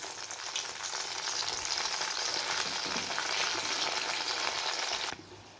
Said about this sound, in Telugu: అందులో చిన్నగా చల్ల పునుకులు వేసేసుకుందాం.